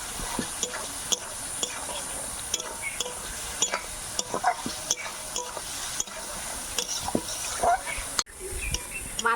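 Shrimp being sautéed with spices in a pan, cooked with taro for kochu shaak: a steady close sizzle with frequent scraping clicks of a spatula stirring, broken by a short gap, with no talking.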